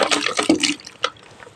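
Water carrying freshly caught fish is poured into a bucket with a short gushing, splashing rush that tapers off into a few light drips and sloshes.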